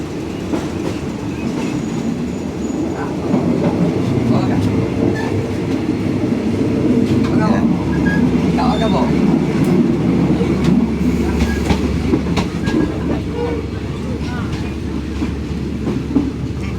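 First-class sleeper train running from Hat Yai to Bangkok, a loud steady interior rumble with rhythmic wheel clatter and occasional squeaks, no talk.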